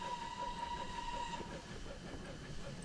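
A Terrier steam locomotive runs in Train Simulator Classic, rumbling and clanking close by, with a thin whistle-like tone sounding through the first half before fading out.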